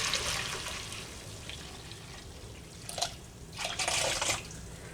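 Ginger water trickles through a strainer into a container, a soft continuous stream with two brief surges of louder splashing near the end, no voices present.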